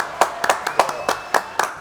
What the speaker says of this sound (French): applaudissements pour Harold David.